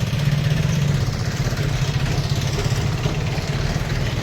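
Loud and close, a tractor engine idles at a sand stockpile while the tractor is loaded with sand, a steady low throbbing chug that continues evenly without pause.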